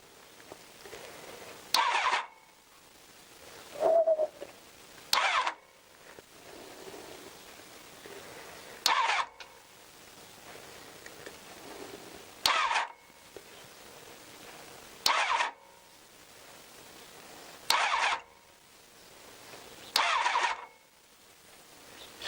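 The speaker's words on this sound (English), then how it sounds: "I don't want to turn it over too much because this engine's been standing for a while." A Honda CBR1000F motorcycle engine that has stood unused for a while is turned over on the electric starter in about eight short bursts, each a loud whirring crank followed by a quiet pause, without firing.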